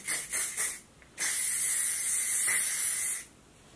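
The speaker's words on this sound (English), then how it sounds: "I take the classic L'Oreal fixing spray, shake it well" Two short spritzes from an aerosol can of L'Oreal hair fixing spray, then a long steady hiss lasting about two seconds, close by with no talking.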